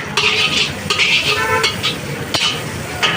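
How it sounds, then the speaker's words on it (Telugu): Cut Manchurian pieces and onion frying in hot oil, with a spatula scraping and stirring the pan in repeated strokes over a steady sizzle and occasional metal clinks. "ఆయిల్ హీట్ అయ్యాక ఈ కట్ చేసుకున్న మంచూరియా, ఆనియన్ కూడా వేసుకుందాం."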